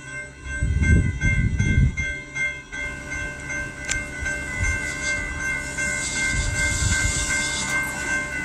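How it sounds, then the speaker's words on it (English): A CATS light-rail train passes by in Charlotte, North Carolina, heard from nearby as a steady rolling rumble with wheel clatter and a brief high squeal, loudest early then easing off. "And another train coming by."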